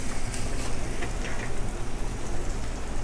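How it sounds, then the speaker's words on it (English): A rack of lamb sears in a hot pan with a dense, steady sizzle and crackle that stays loud and even throughout, with no talking. "You get a nice sizzle on there."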